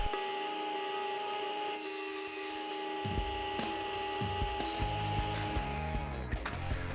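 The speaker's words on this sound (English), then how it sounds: "Now with my miter gauge and a stop block, I'm making the shoulder cuts." Table saw cutting tenon shoulders in wood using a miter gauge and stop block; a steady whine of the blade with a rough rasping cut partway through, then the blade winding down.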